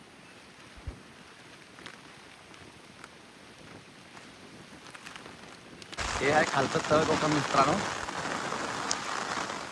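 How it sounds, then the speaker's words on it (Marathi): Heavy rain starts abruptly partway through at Pargad fort, a loud, dense roar of drops close by that continues to the end, with a voice speaking earlier over quieter wind. "पाऊस जोर चालू आहे."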